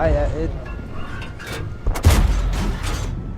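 A tank cannon fires in World of Tanks with the AMX M4 mle. 45, giving a booming shot partway through over rumbling battle noise, and a voice is heard early on.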